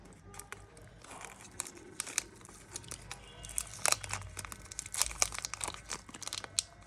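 Dark chocolate bar packaging with no foil inside crinkles and crackles close by in quick irregular bursts, a soft rustle that grows denser and sharper toward the end.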